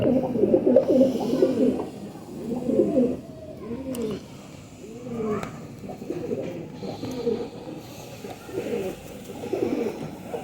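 Faqeer Gull pigeons coo close by in repeated rolling bursts, several birds overlapping, with brief lulls between phrases.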